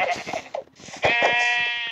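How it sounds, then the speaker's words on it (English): Sheep bleat in a survival video game, a short burst of calls followed by one longer wavering bleat, close and fairly loud with no speech. "Ah, here's another sheep. There's two sheep actually."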